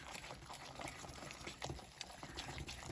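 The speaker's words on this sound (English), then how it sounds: "I've got 105 grams of water. So I'm going to add that to there and then give it a good mix" Water poured into resin mix and stirred, a steady bubbling liquid patter with scattered clicks close by, no talking.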